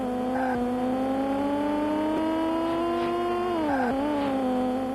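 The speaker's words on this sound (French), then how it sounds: "écoutez le bruit du moteur." A racing car engine in a video game, a steady sustained whine with clear rising and falling harmonics as the revs shift, dropping briefly near the end before climbing again, with no talk.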